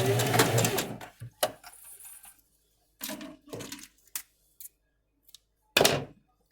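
A sewing machine stitches a few backstitches at the end of a seam, with short separate mechanical bursts and quiet gaps after an initial busier stretch.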